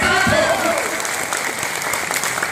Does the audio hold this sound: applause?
yes